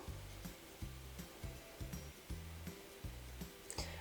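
A sewing machine stitches down one side of fabric for a festival top, giving a rhythmic series of short mechanical bursts separated by brief pauses, faint and close, with no talking.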